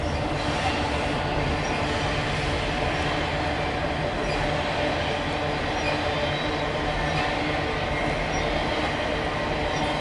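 A Norfolk Southern northbound intermodal freight train rolls past close by, a steady, unbroken roar of wheels and rail noise with faint squeal, no voices.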